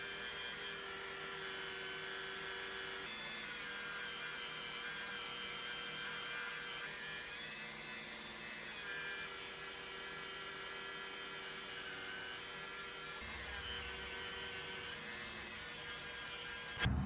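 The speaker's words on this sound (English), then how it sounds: "Then I'm gonna take it over here on my little my Dremel with the little cloth wheel." A Dremel rotary tool fitted with a cloth wheel buffs stains off the brass bolster of a vintage knife, giving a continuous high whine with slight pitch shifts as pressure changes, alone and without talk.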